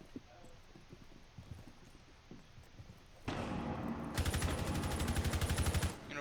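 Automatic gunfire in the Rainbow Six Siege video game, a sudden loud sustained burst of rapid rattling shots after quieter footstep-like tapping, with commentary talking throughout.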